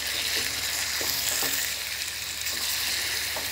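Chicken frying with onion and spices for a chicken karahi gives a steady, close crackling sizzle, with soft intermittent scrapes of a spoon stirring through the pan.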